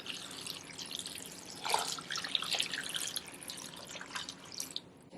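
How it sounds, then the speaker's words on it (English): Water trickles and splashes steadily at close range, a soft continuous pour with small dripping accents and no voices. "We are going to pour some water."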